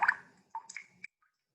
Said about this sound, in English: So we got a 4-gram cork. Now I'm going to toss that in.